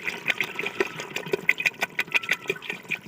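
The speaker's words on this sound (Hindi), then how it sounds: "ये अभी हम इसमें पानी डालेंगे।" Water poured into a pot of beef for nihari, a wet, bubbling, gurgling splash with quick irregular pulses, close and moderately loud, with no talking.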